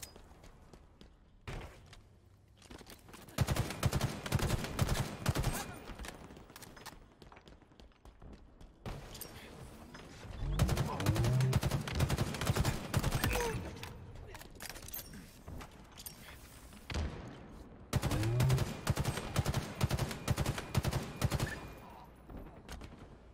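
Bursts of video game gunfire in an online shooter come in three loud stretches of rapid shots, separated by quieter gaps where players talk.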